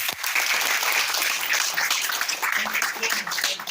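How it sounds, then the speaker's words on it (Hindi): Audience at a network marketing seminar breaking into loud, dense applause, many hands clapping steadily throughout, close and filling the room. "एक बार जोरदार तालियां इन सबके लिए।"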